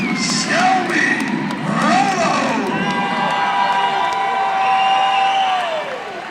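A crowd at a cage fighting championship cheers and whoops loudly for fighter Shelby Rollo during her introduction, sustained shouting and cheering with an announcer's voice ringing out over it.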